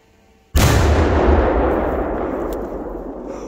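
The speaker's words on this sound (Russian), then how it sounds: "Предыдущие взрывы не были такими сильными" One huge, close firecracker blast booms suddenly after a moment of quiet, then a long rumbling roar slowly fades away.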